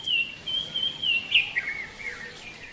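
A small bird chirps a few quick, high tweets in short bursts, fairly close and clear against a quiet background.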